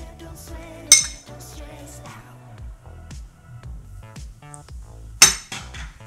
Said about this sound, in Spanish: Y añadimos los garbanzos.